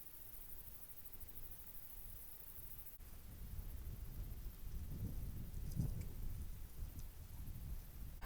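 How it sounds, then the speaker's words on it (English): Strong wind on the Mount Elbert summit buffets a foam-covered microphone, a low rumbling roar that builds and gusts louder in the second half, with no voices. "the wind is really whipping up here"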